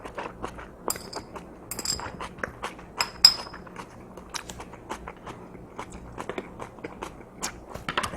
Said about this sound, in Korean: 이번엔 김치를 얹어서 김치랑 같이 먹어볼게요.